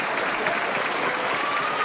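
A wrestling crowd at a Glory Pro match applauds steadily, a dense near wash of clapping that holds evenly for the short stretch.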